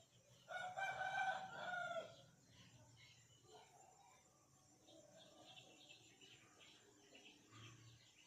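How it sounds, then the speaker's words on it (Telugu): Fighting roosters at a poultry market in Bhadradri Kothagudem: one loud, close crow rings out near the start, followed by softer clucks, distant crowing and faint crowd murmur. "ఇవన్నీ పందెం పుంజులే"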